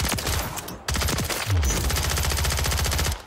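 HMR9 submachine gun from Warzone firing in fast, loud automatic bursts, a short break after the first burst, then sustained rapid fire almost to the end.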